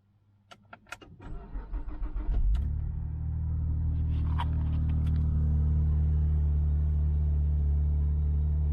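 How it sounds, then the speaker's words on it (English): A Saab 9-3 Turbo X started from cold: clicks and a short whirring crank, then the engine catches with a rising roar and settles into a steady, loud, low idle rumble. "So now we will listen to the cold start."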